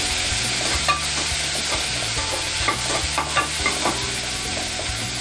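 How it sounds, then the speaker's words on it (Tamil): Shallots sauté in a hot pan for jackfruit thokku, a steady sizzle broken by the scrape and clack of a spoon stirring every second or so, close and alone. "நல்லா வதக்கி விட்டுக்கோங்க"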